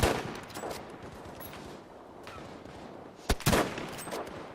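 Gunfire rings out in Battlefield V, a steady wash of distant shots building to a sharp close burst of loud cracks near the end.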